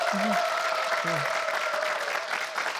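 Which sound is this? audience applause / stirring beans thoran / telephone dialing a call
audience applause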